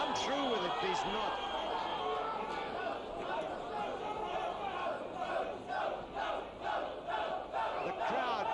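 A boxing crowd at a Sam Stewart versus Mbulelo Botile bout yells and urges on a fighter in a loud, continuous roar, with rhythmic pulsing shouts building toward the end.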